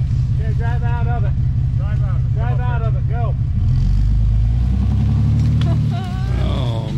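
A Suzuki LJ20 engine revs hard and steadily as the vehicle drives out of a slide on a Sierra Nevada mountain track, a loud continuous drone that rises near the end, with people talking excitedly over it.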